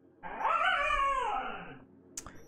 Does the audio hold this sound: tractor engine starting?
no